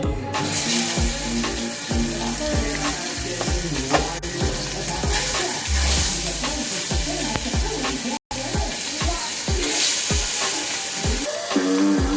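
Loud, continuous sizzling of oxtail searing in hot oil, with spatters and crackles, clinks of a utensil, and running water briefly in the background.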